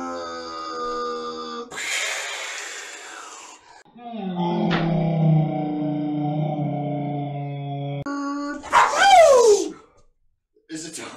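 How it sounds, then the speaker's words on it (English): A dog makes loud, close barks and whining yelps with sliding pitch, in short separate bursts and then a final high squeal, with gaps of quiet between them. "There's a dog in the home."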